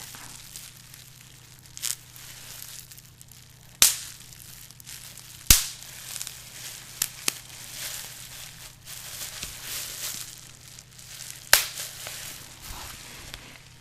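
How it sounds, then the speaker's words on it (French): Crinkly bubble wrap rustling throughout, punctuated by a handful of sharp pops and snaps of bursting bubbles at irregular intervals, close and fairly quiet. "j'espère que le son du papier bulle ne sera pas trop fort"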